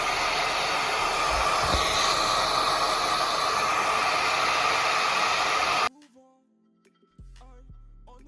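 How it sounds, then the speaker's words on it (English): Blow dryer running on a wig, a loud continuous close whoosh of rushing air lasting several seconds before being switched off abruptly, leaving near silence with a few faint knocks. "take my blow dryer and blow dry this"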